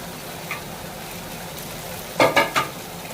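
Liver and sausage sautéing with chopped tomatoes in a pan, Alexandria style, heard as a faint steady sizzle followed by three quick, loud stirring scrapes near the end.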